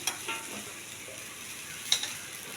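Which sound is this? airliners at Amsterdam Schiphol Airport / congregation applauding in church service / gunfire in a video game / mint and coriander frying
mint and coriander frying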